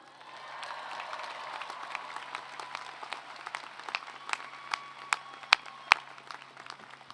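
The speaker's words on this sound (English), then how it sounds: "One more round of applause for Natalie." Commencement audience at the 2023 CSUN Mike Curb College of Arts, Media, and Communication ceremony applauds a graduating student, with a steady swell of distant crowd clapping and a few sharper individual claps standing out near the end.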